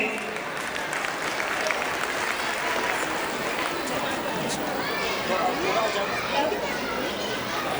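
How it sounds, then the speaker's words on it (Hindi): Audience applause at a school annual function as a student walks up to the stage, a dense steady wash of clapping filling the room alongside crowd chatter and children's voices. "जोरदार तालियों से स्वागत कीजिए"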